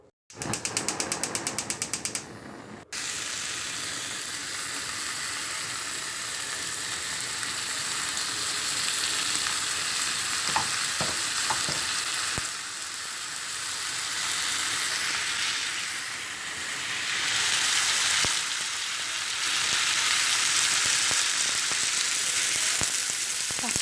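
A pan of food sizzles and fries steadily through dinner preparation, a close, continuous, fairly loud crackle after a brief burst of other noise at the start, with no talking.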